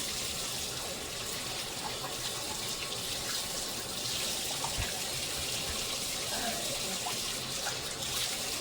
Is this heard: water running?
yes